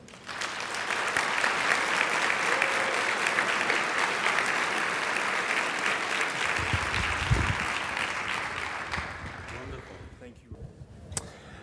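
Audience applause welcomes a speaker, a sustained wash of clapping from a crowd that holds steady for several seconds, then thins and fades away to near quiet.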